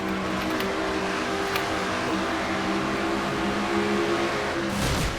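Onboard a stock race car in an NNSCRA Castrol GTX Cup Series oval race, the engine drones loud and steady from inside the cockpit, with a sustained harmonic whine that shifts slightly near the end.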